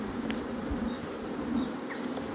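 Honeybees droning in a steady dense hum at an opened hive, close and continuous, with individual bees passing near the microphone and fading in pitch.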